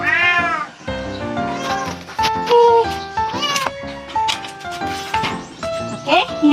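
Several kittens meow loudly and insistently at close range while being fed goat milk. Their overlapping high cries come in rapid succession, with some voices beneath them.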